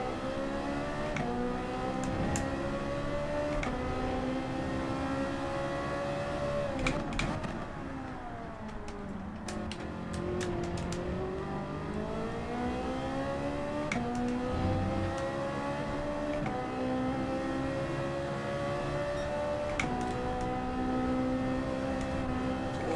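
Ferrari GT3-class race car engine in Gran Turismo 7 on the Daytona circuit, its revs climbing and dropping through gear changes in a continuous, fairly loud drone with brief rasps, and no clear talking.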